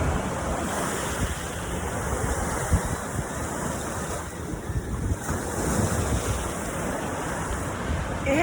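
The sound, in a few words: ocean waves at the beach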